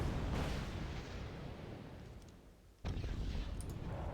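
Artillery fire in Wargame Red Dragon rumbles faintly as distant, rolling booms, fading into a low hush before a sharper blast bursts in near the end.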